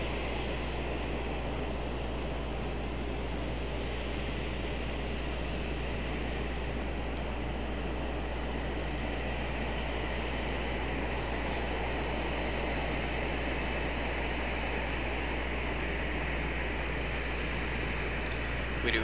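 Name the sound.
United airliner taxiing at Raleigh Durham airport at night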